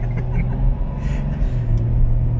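Low, steady road rumble inside a moving car, a continuous drone with a constant hum, heard up close and alone with no talk over it.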